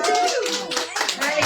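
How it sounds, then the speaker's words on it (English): Audience applause for a guest at an auction livestream, dense and steady clapping filling the short stretch, mixed with voices. "Let's big round of applause for Pam."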